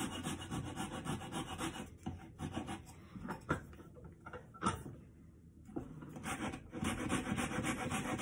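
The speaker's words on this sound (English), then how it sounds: "I'm going to switch to a finer rasp just so I can get in there." A fine, small rasp filing the shaft of a hand-carved wooden spoon clamped in a vise, giving repeated close scraping strokes with a brief pause midway before the rhythmic rasping resumes.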